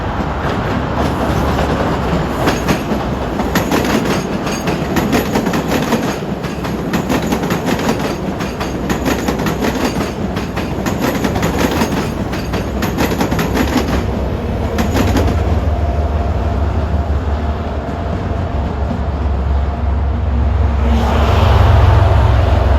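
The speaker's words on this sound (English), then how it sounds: "the train on the left is from Worcester" A commuter train from Worcester passes at close range in the Boston area, a steady rumble with clattering wheels over the rail joints. The roar stays continuous and grows heavier toward the end as the cars keep rolling by.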